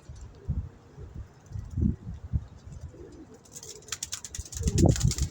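Pigeons coo softly in low, rolling bursts nearby at a water trough where they bathe, with fluttering and light rustling toward the end.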